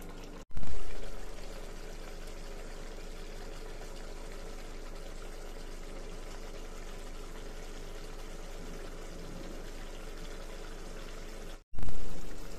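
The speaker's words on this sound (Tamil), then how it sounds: "இது ஒரு 10 நிமிஷம் அப்படியே கொதிக்கட்டும்" Chicken gravy bubbling and simmering steadily in a pot on the stove, a continuous close wash of boiling liquid with no talk, bracketed by brief clicks at the start and end.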